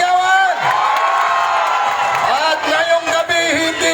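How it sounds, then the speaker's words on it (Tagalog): Crowd at a political proclamation rally in Cabanatuan clapping, whooping and shouting together, a loud, dense wave of cheers with high yells standing out throughout. "Marinigan ang palakpakan na may kasama sigawan!"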